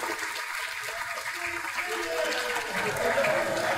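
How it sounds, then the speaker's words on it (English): Banquet audience at PaizoCon 2014 applauds the customer service team, soft scattered clapping that thickens and grows louder toward the end, with some voices mixed in. "If the customer service team could stand up for a well-deserved round of applause, I'd really appreciate that."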